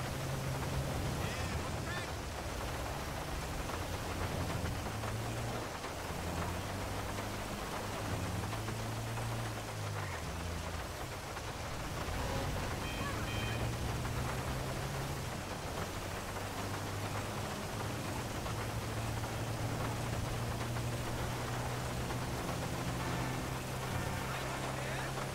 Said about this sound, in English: And it's pouring rain, of course